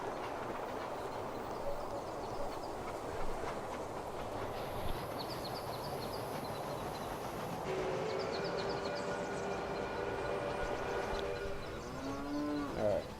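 Trains run in a model railroad video game, with a steady low rumble of rolling cars and a brief horn-like tone near the end, fairly quiet with no talk.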